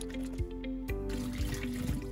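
Water trickles, splashes and sloshes in a plastic food delivery container being rinsed with warm water after flour water is tipped out, close and continuous with faint clunks of the container.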